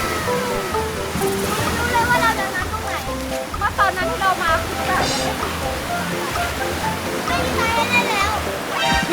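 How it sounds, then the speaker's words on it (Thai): High-tide seawater on the Thai coast at Ko Man Nok, Rayong, washes continuously up to the bank in a dense, rushing slosh, loud and close. "ตอนเช้าวันนี้นะครับน้ำขึ้นเต็มเลยน้ำทะเล ขึ้นมาถึงตลิ่งของพวกเราเลยครับ"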